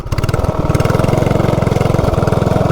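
CT200U-EX minibike fitted with a big block engine and torque converter, running loud and close with a steady fast thumping exhaust pulse, the revs dipping briefly mid-way.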